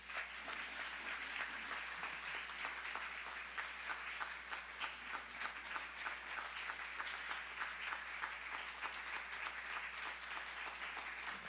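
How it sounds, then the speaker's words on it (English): Sustained audience applause in a hall, welcoming a doctor speaker back from Gaza, with dense steady clapping that continues evenly throughout and no talking. "So please help me give a round of applause to Dr."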